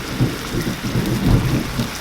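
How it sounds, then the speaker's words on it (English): Thunder rumbles in low rolling surges under steady heavy rain outside a home kitchen, a loud continuous wash of downpour with no voices. "It's thunder, guys, outside, so it's raining"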